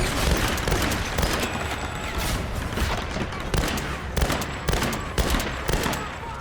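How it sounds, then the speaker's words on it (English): Bursts of gunfire in Tomb Raider, a rapid fusillade of sharp shots cracking in quick clusters at close range, loud and dense with brief gaps between volleys. "Okay, small burst fire."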